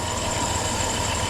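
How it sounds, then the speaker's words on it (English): Steady engine hum of a 2007 Dodge Grand Caravan with an AC compressor running, a continuous even drone with a mid-range tone, close and fairly loud with no talking. "Probably the compressor kicked on."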